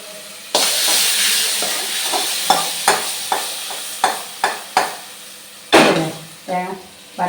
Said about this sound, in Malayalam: നല്ല പാകം കടുക് പൊട്ടി കഴിഞ്ഞോട് തേങ്ങ വറവായി